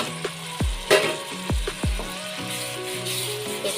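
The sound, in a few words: ground tomato sautéing with spices for bottle gourd curry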